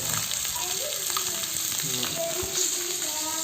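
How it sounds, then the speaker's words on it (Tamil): Viral (snakehead) fish frying in a hot pan as a steady crackling sizzle, with occasional spatters and a soft voice briefly in the background. "ஃப்ரை ஆகட்டும். ஃப்ரை ஆனதுக்கப்புறம் திருப்பி போட்டுக்கலாம்."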